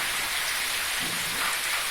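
Heavy rain pours down in Mevasa village in a dense, unbroken roar, loud and close, with no voices.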